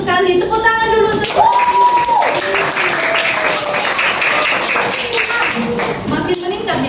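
Classroom applause in a teaching simulation: a burst of clapping from a small group, mixed with voices talking and exclaiming over it.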